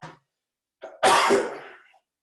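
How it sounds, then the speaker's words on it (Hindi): A single harsh cough, close and loud, preceded by a couple of short breathy sounds, with silence around it. "हमको खांसी हो गया"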